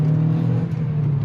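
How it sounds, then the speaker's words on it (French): An Opel Astra Bertone with a 2.0 turbo engine pulls hard, a loud steady engine drone with whirring turbo overtones heard briefly and up close. "Le turbo, il fait un bruit de dingue."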